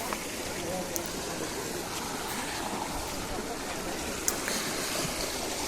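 Fast-flowing stream water at Jomblu near Hebri during an Ellu Amavasya holy bath, a steady broadband rushing that continues evenly throughout with no pauses, close and fairly loud.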